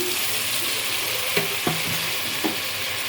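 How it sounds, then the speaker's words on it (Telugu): Mint and tomatoes with salt fry in a pan, a steady close sizzle broken by a few soft clinks of a stirring utensil. "ఇప్పుడు పుదీనా టమాటాలు కూడా వేసేద్దాం"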